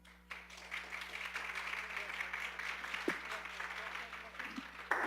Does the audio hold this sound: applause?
yes